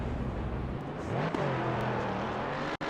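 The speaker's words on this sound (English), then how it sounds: "Z06 absolutely mashes the throttle, blasting out of the Parabolica to begin his race from the very, very back" A Corvette Z06 race car in Assetto Corsa Competizione accelerates hard out of the Parabolica at Monza, its engine note rising steadily through the gears in a sustained, fairly loud drone with a brief dropout near the end.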